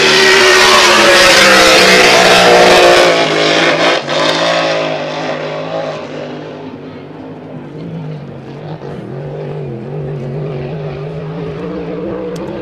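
A racing hydroplane at a Valleyfield Grand Prix time trial roars at full throttle, a loud, raw engine howl that holds steady before easing into a lower, fading drone as the boat pulls away.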